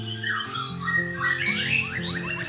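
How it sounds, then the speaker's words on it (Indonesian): Loud, busy birdsong from a crossbred white-rumped shama, with squawks and bright whistled phrases, fast and continuous, close up with steady background hum. "dua terah berbeda dari murai batu hasil silangan seri F"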